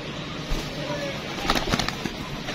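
Pet pigeons on a rooftop coo softly, with a brief flutter of wings against steady outdoor background noise.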